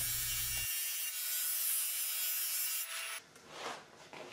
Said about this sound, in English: I'm sanding both sides of the boards, taking off about 3/1 of an inch off each surface